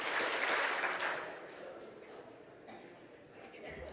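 A conference audience claps, a brief burst of applause that is loudest at the start and then thins to scattered claps and room noise.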